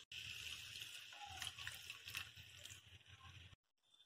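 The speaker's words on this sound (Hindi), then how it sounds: "अभी हम इसमें और थोड़ा सा पानी" Water splashes and trickles steadily into a pan while making dabeli, close and fairly quiet, then stops abruptly.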